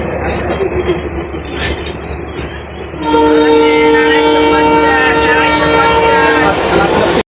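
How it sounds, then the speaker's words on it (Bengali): A train pulling out of Lalit Nagar railway station, with a loud sustained horn blast rising over the rumble of the cars and platform noise and overlapping voices. "তারই মাঝে ট্রেনটা হুট করে ছেড়ে দিচ্ছিল"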